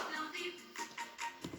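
Hand claps keep time in a children's song, a short run of crisp, evenly spaced claps near the microphone over a soft sung or spoken voice.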